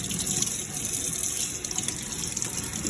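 Fresh mint from a garden rinsed under a running kitchen tap, a steady close hiss of flowing water splashing into the sink without pause.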